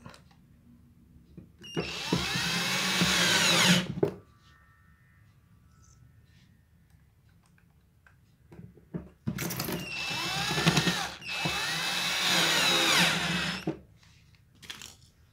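Power drill driving bolts into a sprayer pump, two loud whirring runs separated by a pause, the second longer and broken into bursts, with ratcheting mechanical tones and no voices.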